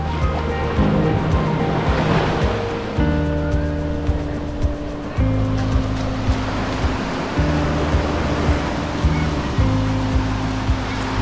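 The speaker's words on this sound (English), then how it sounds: "Look at that waves, guys. Very inviting waves." Ocean waves on a beach in Guimaras wash in as a steady, broad rush, with a droning tone that shifts in pitch running underneath and no talk.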